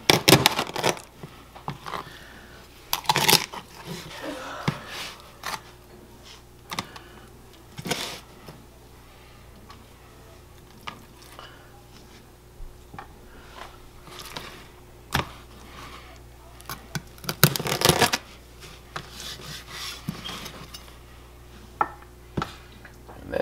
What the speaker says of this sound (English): That's how you cut up a rabbit.